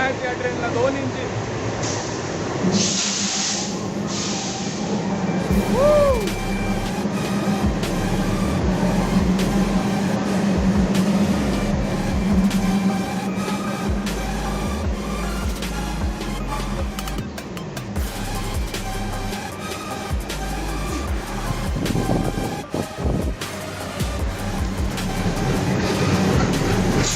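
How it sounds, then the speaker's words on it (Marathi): A passenger train on the Parbhani–Nanded line rolls into a station, with a long, steady rumble and rattle of carriages, high squeals and clatter near the start, and a person talking over it. "वाव, ट्रेन आली आहे."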